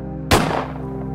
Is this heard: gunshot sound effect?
yes